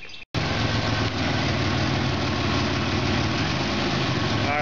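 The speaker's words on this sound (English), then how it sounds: "I got a lot better engine idle now" A car engine idles with its exhaust cut open ahead of the catalytic converter, making a steady, close, rumbling idle that runs on evenly after a brief drop at the start.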